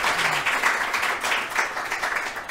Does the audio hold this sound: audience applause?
yes